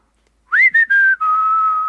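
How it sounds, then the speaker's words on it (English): A person whistles nearby, a few short clear notes followed by a longer held tone, loud and alone with no talking. "Go on, can you whistle,"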